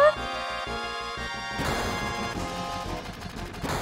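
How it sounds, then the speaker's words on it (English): Video game gunfire from Final Fantasy VII: dense, rapid bursts of shots and crashes over a steady musical soundtrack, loud and continuous. "Gunfire?"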